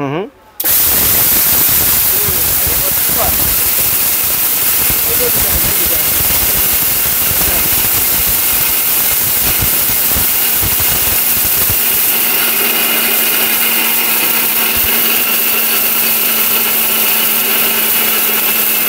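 A powerful steel Bush Robot blender grinds lentils into flour with a loud, steady high-speed motor roar that runs unbroken after switching on, while someone talks over it.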